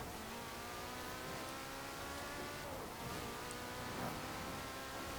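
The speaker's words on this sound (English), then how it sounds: "as soon as it shifts into 6th gear, it's relentless in terms of how much speed it's gaining" A 1987 Porsche 959 in Forza Horizon 4 pulls hard in sixth gear, its engine a loud, unbroken, steady roar of acceleration with no talk over it.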